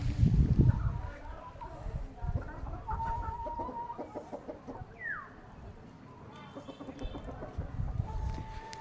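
Farmed chickens cluck and call near their coop in a rural yard, a string of short clucks and a brief squawk with low handling noise and movement around them, while people talk nearby.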